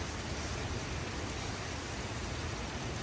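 Steady rain pouring down, a dense, even hiss of drops with no pauses, heard on its own.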